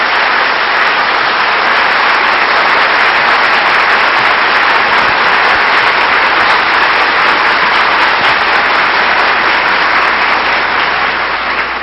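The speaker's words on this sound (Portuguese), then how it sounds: "eu peço à plateia de Conquista uma salva de palmas para o nosso querido Divaldo" A large audience at a spiritist conference in Vitória da Conquista applauds, a loud, dense, unbroken wash of clapping sustained throughout.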